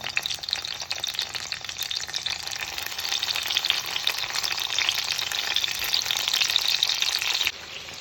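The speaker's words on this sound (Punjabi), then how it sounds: "ਇਹ ਗਰਮ ਹੋ ਗਿਆ ਤੇਲ ਤੇ ਭਰੀ ਹੋਈ ਬੈਂਗਣੀ ਇਹਦੇ ਵਿੱਚ ਇਸ ਤਰ੍ਹਾਂ ਛਿਣ ਕੇ ਰੱਖ ਦਾਂਗੇ" Stuffed eggplants frying in hot oil make a steady, dense sizzle with fine crackling. The sound is loud and close, runs without pause for the whole span, and eases slightly near the end.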